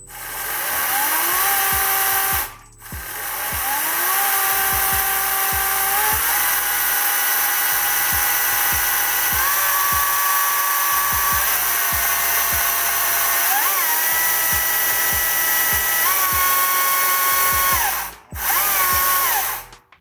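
A Stihl MSA 70 C battery chainsaw runs close and loud for nearly the whole stretch, its whine rising and falling as the variable speed trigger changes, with two brief cut-offs.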